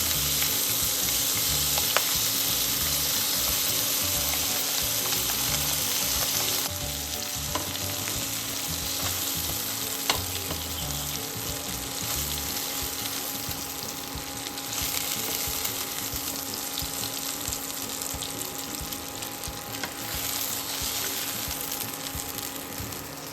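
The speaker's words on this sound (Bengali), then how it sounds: "পাবদা মাছ খুব নরম মাছ, এই জন্য এটাকে বেশি ভাজার দরকার নেই।" Pieces of pabda fish fry in hot oil, giving a steady, close sizzle with a dense crackle that runs unbroken for the whole stretch, with no talk over it.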